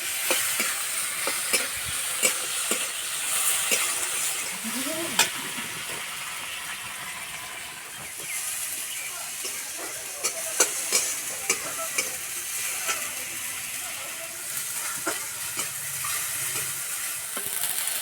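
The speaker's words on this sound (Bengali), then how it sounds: "টমেটো ভাজা হয়ে গেছে" Chopped tomatoes frying in a pan for a greens and fish-head curry, giving a steady sizzle with scattered crackles and the scrape of stirring throughout, close and moderately loud with no talk.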